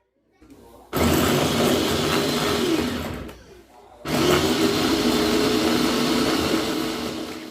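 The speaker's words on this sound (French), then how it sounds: "Nous commençons la préparation par mixer l'ail, les poivrons et les tiges d'oignons verts." A kitchen blender whirs loudly while chopping garlic, peppers and green onion stems, starting abruptly, pausing briefly, then running again in a steady roaring whine.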